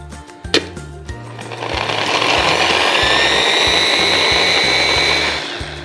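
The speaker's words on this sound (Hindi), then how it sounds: "ये स्ट्रॉबेरी जाएंगी इस ब्लेंडर के अंदर।" Fresh strawberries are whirred in a kitchen blender: a few clunks, then the motor spins up into a loud, steady high-pitched whine that holds for several seconds before easing off at the end.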